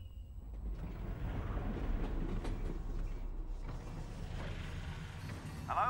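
A train rumbles along in the video game Half-Life: Alyx, with a steady low mechanical roll and faint clanks, a little louder near the end.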